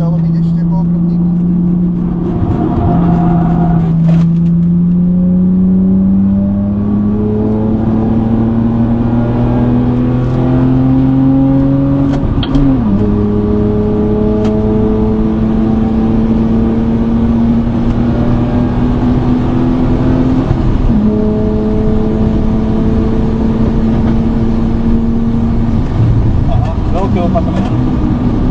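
A tuned BMW Z4 at full throttle on the Slovakiaring circuit, its engine note climbing steadily through the gears with brief shift breaks. The engine sounds loud and close from inside the car, and a voice talks over it.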